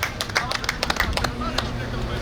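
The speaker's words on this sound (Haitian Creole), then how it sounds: "Let's give a round of applause for Mr." An audience claps for Mr. Sheikh at a sports tribute ceremony, a scattered, irregular round of hand claps over a steady murmur of crowd chatter and voices.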